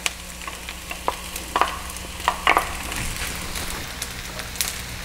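Ground pork sizzling in a hot pan for chao fan, with scattered crackles and the scrape and clatter of a utensil stirring it, close and moderately loud; no talking.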